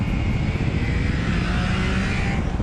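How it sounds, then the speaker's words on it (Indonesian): A loud, dense engine roar from a six-cylinder Honda CBX motorcycle exhaust holds steady at high revs, a smooth continuous howl heard close, with no voices. "Tapi yang satu ini suara knalpotnya jelas gak kalah merdu."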